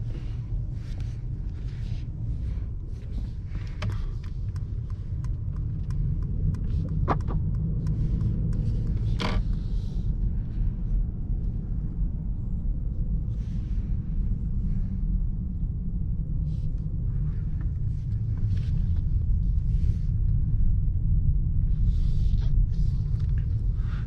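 Inside a 2021 Mercedes-Benz S500 with a 435 hp engine on a night drive, a steady low rumble of engine and road noise hums throughout, swelling slightly toward the end, with faint ticks and clicks from the cabin.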